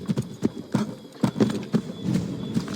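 A horse's hooves clip-clop in a steady rhythm under a rider in the video game Assassin's Creed III, close and moderately loud, with faint background ambience.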